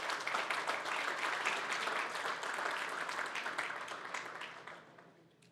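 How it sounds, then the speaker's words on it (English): Audience at the SmartCon 2022 conference applauding in a dense, sustained burst of many hands clapping, loud at first and gradually fading toward the end. "So give yourselves a round of applause."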